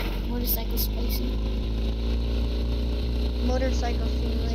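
A motorcycle engine in the game Totally Accurate Battlegrounds sounds as a steady, close, droning hum throughout, with faint clicks and game sounds over it.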